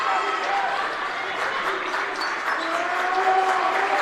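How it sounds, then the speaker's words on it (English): A high school basketball crowd at a Class B2 boys final cheers and applauds steadily throughout, a dense continuous roar with broadcast commentary voices under it. "this Mynderse crowd is into it"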